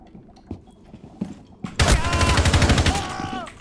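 Rapid bursts of automatic gunfire from the video game Rainbow Six Siege, loud and dense, start abruptly and continue steadily, with a few faint thuds beforehand.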